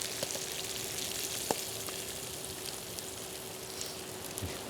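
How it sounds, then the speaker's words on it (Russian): Anchovies sizzle and fry in hot oil in a pan, a steady close crackling hiss with scattered sharper pops, no voices. "Эльдар, из-за тебя чуть рыба не сгорела"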